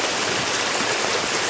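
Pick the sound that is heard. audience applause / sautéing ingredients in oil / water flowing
water flowing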